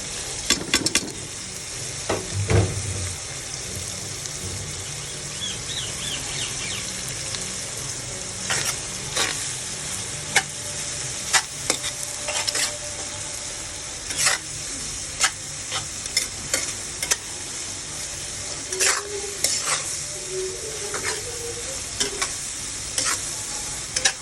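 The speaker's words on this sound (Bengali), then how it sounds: "আমি এই মশলার সাথে ইঁচড়টাও কষিয়ে নেব।" Boiled jackfruit being sautéed with spices in a pan makes a continuous close sizzle. Repeated sharp scrapes and clinks from stirring run through it, and nobody speaks.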